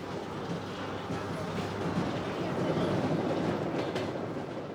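A passenger train runs along the Trans-Siberian Railway on the final miles into Vladivostok, a steady close rolling rumble with faint rhythmic wheel clatter throughout.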